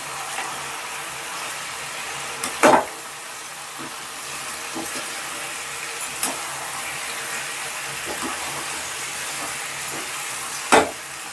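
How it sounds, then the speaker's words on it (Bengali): Mutton with meat masala and Kashmiri chilli powder being stir-fried in a pan, giving a steady sizzle with a few sharp clanks of a spatula scraping the pan. "এবারে মাটনটা খুব ভালোভাবে কষিয়ে নিচ্ছি"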